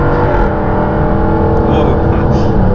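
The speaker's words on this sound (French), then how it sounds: "J'ouvre les vannes sur l'échappement pour avoir plus de bruit." Jaguar F-Type R Coupé AWD, 550 hp, with its exhaust valves open, a deep, loud, steady engine drone with strong low harmonics running the whole time, heard from inside the car while a voice talks over it.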